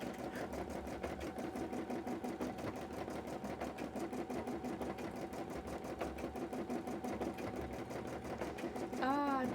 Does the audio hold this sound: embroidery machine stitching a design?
yes